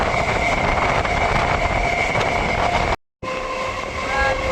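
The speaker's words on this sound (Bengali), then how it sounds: "মাঠের মাঝে ছুটে চলেছে ডায়মন্ড হারবার লোকাল।" Diamond Harbour local train running through open fields in the monsoon, loud continuous rumble with a sustained tonal whine and rail clatter, interrupted by a short dropout before resuming close and steady.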